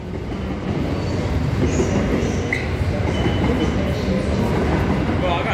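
Transperth A-series train at a station platform on the Midland line, a continuous close rumble with light clickety-clack of wheels over rail joints and brief squeals.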